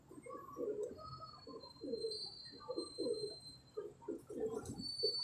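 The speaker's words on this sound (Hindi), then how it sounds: "लो जी दोस्तों, एक टैडी कबूतर ये पड़ा हुआ है" A teddy pigeon coos in a series of soft, low, throaty phrases repeated rhythmically, close by and fairly quiet, with a faint high whine in the background.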